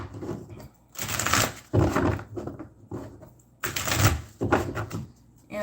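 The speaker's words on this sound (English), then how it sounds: "Let's get a couple of good shuffles." Bursts of riffling, crisp card shuffling come in several quick rounds with short gaps between them, close by and fairly loud.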